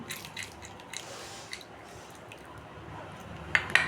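Cashews, almonds and pumpkin seeds being stirred into a glass of milk for a ragi drink, soft wet squishing and dripping close by, ending with a couple of sharper clinks against the vessel.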